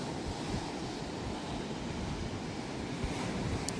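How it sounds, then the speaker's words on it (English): Rough sea waves break on the shore behind a beach hotel in Tulum on Mexico's Riviera Maya, a continuous loud wash of surf mixed with wind buffeting the microphone. "The sea looks really rough."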